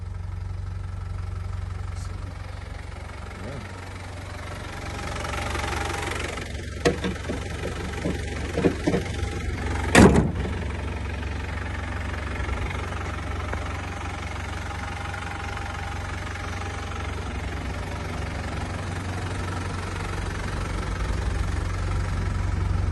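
A Land Rover 90 with a 200tdi diesel engine idles steadily just after a cold start, a continuous low rumble with a few brief knocks and clunks near the middle.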